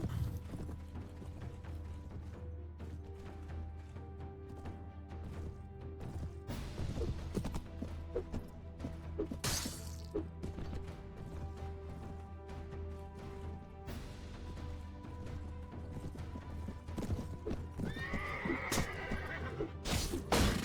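An armored horse in the video game Mount & Blade: A Clash of Kings whinnies amid clip-clopping hooves and clanking mechanical noises, with occasional crashes over a busy battle soundscape.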